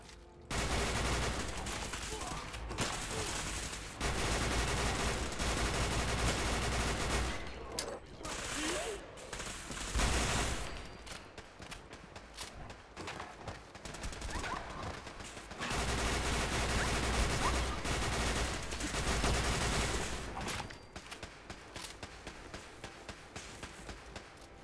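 Automated turrets open fire in Fallout 4, sustained rapid bursts of gunfire in long loud volleys with brief lulls between, dense and continuous over background game sounds.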